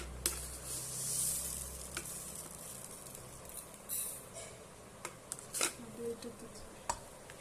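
Mustard seeds sizzle in hot oil for a vegetable shukto, with sharp pops and crackles over a low frying hiss and a few stirring knocks, close and quiet.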